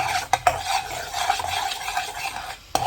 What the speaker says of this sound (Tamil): இப்போ என்னோடய கணவர் தான் எனக்கு கரமைல் காய்ச்சி தர்றாரு